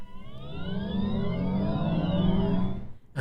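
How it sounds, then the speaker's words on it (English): Volkswagen ID.R electric race car's synthetic drive sound composed by Leslie Mandoki, a rising, layered electronic tone with swelling harmonics, steady and fairly loud, cutting off abruptly at the end. "That's the sound of Volkswagen's ID.R, which was created by Leslie Mandoki"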